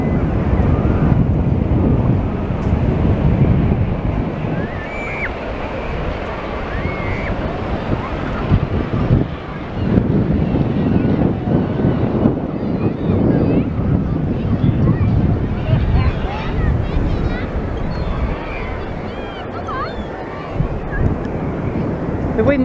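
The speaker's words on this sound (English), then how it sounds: "but you will hear the wind" Strong sea wind buffets the microphone on South Beach near South Pier, a loud continuous rumbling roar with surf mixed in, steady for the whole stretch.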